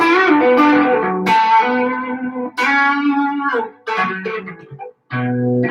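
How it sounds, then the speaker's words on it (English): Distorted electric guitar on a Stratocaster playing sustained, harmonically rich chords and notes in several phrases with brief gaps, loud and close. "and then we can add a little bit of distortion"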